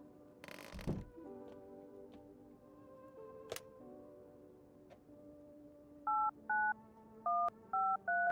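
Telephone dialing in the video game No I'm Not a Human: a run of five short, evenly spaced keypad tone bursts near the end, preceded by quiet game ambience with a few soft clicks and a brief thump.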